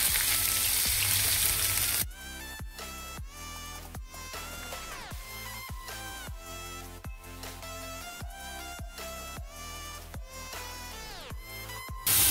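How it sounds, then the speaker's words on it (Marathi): Onion hits hot tempering oil for a chicken curry with a loud, dense sizzle for about two seconds, after which plucked, chiming music plays over the continuing frying. "आता हे मी फोडणीमध्ये टाकणार आहे। आधी मी कांदा टाकते।"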